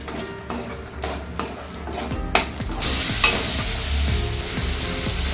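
Raisins and cashews fry in hot oil for vegetable biryani: a steady, loud sizzle with occasional spoon scrapes and stirring clinks, which grows fuller partway through.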